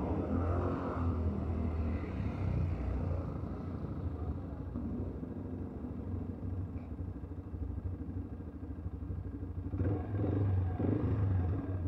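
An ATV engine rumbles and revs through a ride at an adventure park in San Mateo, Rizal, a steady close drone that swells louder near the end, with talk faintly underneath.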